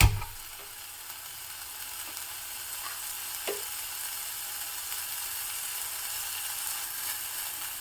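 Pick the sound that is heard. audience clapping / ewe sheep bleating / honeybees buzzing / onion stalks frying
onion stalks frying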